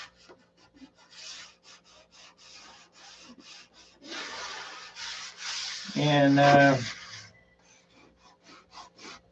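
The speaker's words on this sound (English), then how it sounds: "So when I leave this video tonight, I will continue to sand." Sanding paint off a model aircraft by hand, a series of short dry rasping strokes in a steady rhythm, close and fairly quiet, with a brief voiced tone in the middle and a single spoken word.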